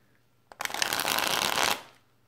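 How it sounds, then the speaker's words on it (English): Playing-card-size tarot cards are riffle shuffled once up close, a loud fluttering burst lasting just over a second that ends in a soft settle. "my God, I love shuffling these cards."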